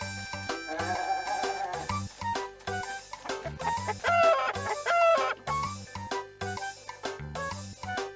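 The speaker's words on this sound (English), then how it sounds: "These birds are chickens." Video game chickens in The Hoobs for PS1 cluck and crow in a busy, repeating pattern over rhythmic background music, fairly loud and close throughout.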